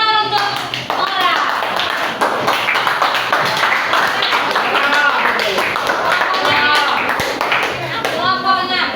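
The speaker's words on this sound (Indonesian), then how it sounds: "Oke, tepuk tangan untuk Ora" An audience claps for a speaker in a classroom-style presentation session. The dense applause runs throughout at close range, mixed with excited voices and cheering.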